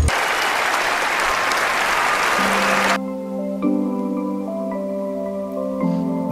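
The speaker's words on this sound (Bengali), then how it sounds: "তালিয়া হয় তালিয়া।" Dense, loud clapping from a group of friends on a tour in Bangladesh fills the first three seconds, then cuts off abruptly as music takes over.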